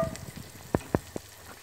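Hot tadka poured over cooked thick rice, a soft sizzle with a few crisp popping spatters and a brief hiss, close and fairly quiet.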